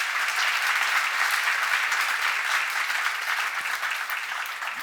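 A church congregation at a seminar claps in thanks, giving dense, sustained applause that fills the room at a steady, fairly loud level from start to finish with no speech over it.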